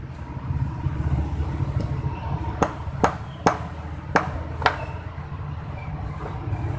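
A hammer strikes the pin of a bicycle chain several times during a repair, giving five or six sharp metallic taps at an uneven pace over low background noise.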